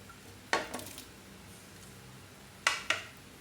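A lid is set onto a cooking pot of fish soup with lemongrass, ginger and onion, giving two sets of sharp metallic clinks a couple of seconds apart, close and fairly quiet over low background hiss.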